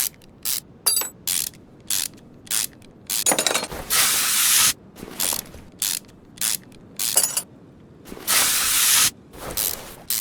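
A ratchet wrench loosens engine head bolts in Car Mechanic Simulator 2021, giving close, loud bursts of rapid clicking. Short spurts alternate with longer runs, separated by brief silences, and no one speaks.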